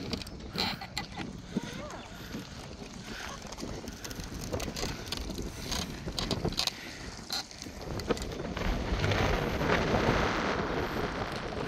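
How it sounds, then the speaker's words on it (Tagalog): Strong wind blowing at an outdoor park, a continuous rough buffeting roar with gusty bursts that swell louder toward the end, close and dominant. "Hangin, ang lakas ng hangin."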